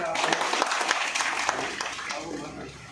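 Audience applause at a Congress campaign event for an MLC election at Vikram Campus in Chintamani, loud dense clapping that gradually eases over a few seconds, heard close and steady.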